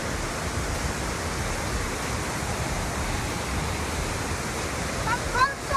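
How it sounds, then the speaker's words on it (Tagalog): Waterfall at Conception Harbour Falls, a steady, dense roar of falling water close by that holds constant throughout, with a brief louder splash near the end. "Waterfalls. Oh, I love waterfalls."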